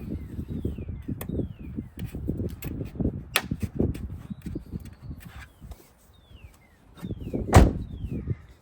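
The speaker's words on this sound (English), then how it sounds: "But before we close the door" Scattered clicks and handling noises, then a solid thud of a 2006 Toyota 4Runner door being shut close by near the end.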